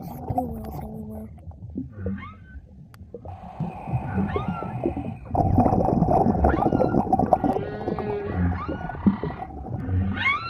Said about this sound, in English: Jesus, blue whales everywhere.